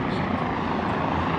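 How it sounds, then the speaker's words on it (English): Helicopter taking off on the Manhattan waterfront, a loud steady rotor and engine roar filling the whole stretch, continuous and close with no clear breaks. "Helicopter taking off right now."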